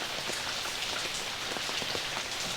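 Steady rain pattering on surfaces and umbrellas during the final round of a disc golf championship, a dense, even hiss with scattered drop taps and no talk.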